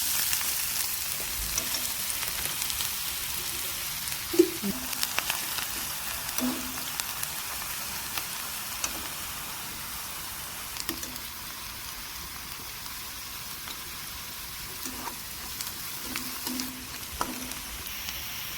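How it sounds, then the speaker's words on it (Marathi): Onion sautéing in a pan until pink, ahead of a pigeon pea seed curry, gives a steady soft sizzle with occasional stirring clicks and scrapes, close and continuous with no talk. "कांदा पण आपल्याला चांगला गुलाबी रंगावरती परतून घ्यायचा आहे।"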